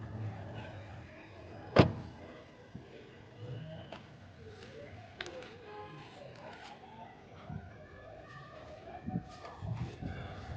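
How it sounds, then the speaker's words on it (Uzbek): A Nissan Sylphy electric car's charging port flap opens with one sharp, close click-thunk, followed by faint handling noises and quiet background rustle. "Nissan Selfie'da zaryadka qilish xonasi shu yerda bo'ladi. Ochiladi."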